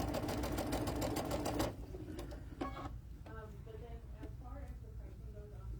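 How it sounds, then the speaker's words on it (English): A sewing machine stitches white triangles onto a quilt block in a fast, dense, close burst that stops abruptly, followed by a person talking over quiet room tone. "I'm going to sew these other white triangles on."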